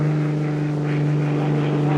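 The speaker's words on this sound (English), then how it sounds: "The sound of the engine brings everybody, even the pigs, scampering to the drop zone." Propeller cargo plane engine during a supply drop over Laos, a steady loud drone with strong low harmonics, continuous and close throughout, no voices.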